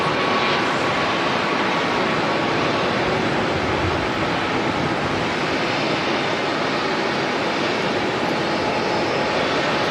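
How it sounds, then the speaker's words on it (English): Airliner taxiing at Auckland Airport, a steady, dense engine roar heard from outside with no breaks or voices. "Very quick taxi."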